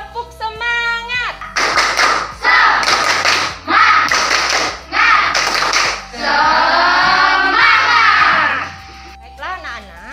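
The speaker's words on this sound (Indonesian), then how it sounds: "tepuk semangat dulu. Tepuk semangat." An elementary school class in Tabanan, Bali, performs the tepuk semangat rhythmic spirit clap before a lesson: bursts of loud group clapping in a patterned beat, with children chanting and calling along between and over the claps.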